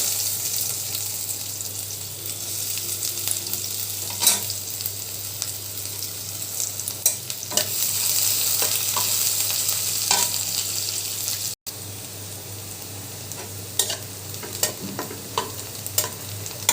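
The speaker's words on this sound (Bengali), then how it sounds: "শুকনো মরিচটা লাল হয়ে গেছে এবার আমি একটু পেঁয়াজ দিব" Onion fries with dried red chilli in a pan: a close, continuous sizzle broken by intermittent stirring scrapes and clicks, with a brief drop-out partway through and no talking.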